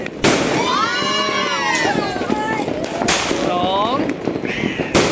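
Eight-shot firework launcher firing during New Year celebrations, sharp bursts at the start and again near three seconds, with whistling crackle trails between them, loud and close, while people shout excitedly.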